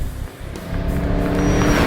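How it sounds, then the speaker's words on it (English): A 2010 Chevrolet Camaro SS under way, its engine and road noise a steady, loud close drone that swells slightly toward the end, with no talking. "I'm driving the 2010 Camaro SS."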